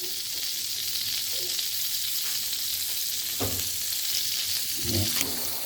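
Martabak dough frying in a flat pan gives a steady, soft sizzle throughout, with a few brief clicks and scrapes from handling, fairly faint and without talk.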